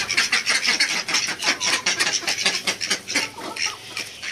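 A flock of desi chickens clucking and chattering continuously at feeding time, many overlapping birds close by, fairly loud with no talking.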